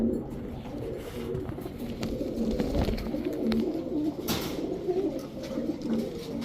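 Pakistani Rampuri pigeons, a male and female pair, coo in low repeated throaty calls, close and steady throughout, with faint rustling and no talk.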